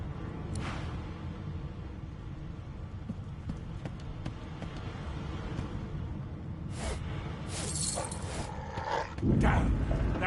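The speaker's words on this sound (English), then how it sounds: "The dog whines and continues pawing at its nose." A dog in the Divinity role-playing game whines and paws at its nose, faint short whimpers and scratching bursts rising over a steady game soundscape of music and ambience, with a louder thump near the end.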